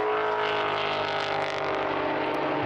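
GT race cars, including a Lamborghini, running side by side down the start-finish straight at Portimão, a loud sustained engine roar with rising pitch as they pass, dense and continuous.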